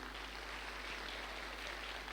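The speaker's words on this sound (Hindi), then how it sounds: "एक बार जोरदार ताली उनके लिए।" An audience applauds in a steady, dense wash of clapping that holds at an even level for about two seconds.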